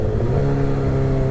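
A 2006 Suzuki GSX-R 1000 motorcycle engine blips up loudly during a rev match, its steady droning growl close and continuous, with no talk.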